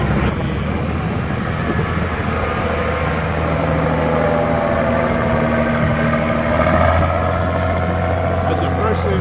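A freshly installed Volvo Scania six-cylinder 13.7-liter turbocharged diesel runs steadily in a Kalmar DC23 pneumatic-tire forklift, a loud continuous rumble with a low droning hum throughout, while a voice talks over it.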